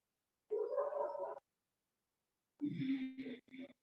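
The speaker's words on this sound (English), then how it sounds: "I'm breathing through the nose, but there is proper contraction of the throat" Ujjayi breathing in a yoga pranayama class, drawn through the nose with the throat contracted, comes as two close, breathy passes with a rasping, gargle-like hiss and a short silence between them.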